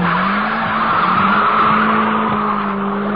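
Rover 220 Ti spinning its wheels, tyres squealing in a long continuous screech over a steady, loud engine note, close by and with no talk.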